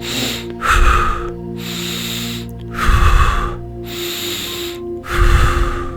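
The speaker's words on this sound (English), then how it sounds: "recovery breathing, 3 quick inhales and exhales" Recovery breathing done by a person: three loud, close breath cycles, each a quick inhale through the nose followed by a forceful exhale through the mouth, with short pauses between them and no speech.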